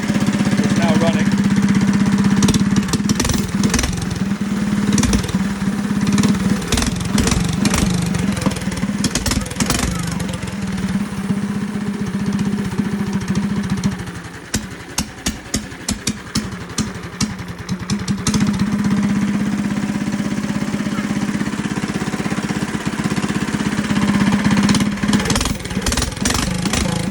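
A go-kart engine with a loud exhaust runs steadily and close by, a heavy droning idle throughout that dips briefly midway with a few sharp pops before resuming its loud buzz; voices are faintly present alongside.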